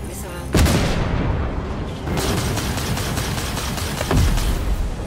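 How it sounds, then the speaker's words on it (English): Missile launches and booming explosions against pirate ships in the Star Citizen space combat game, with a loud blast near the start and further heavy impacts, over a continuous rumbling game backdrop. "this guy looks like he could use a good missile"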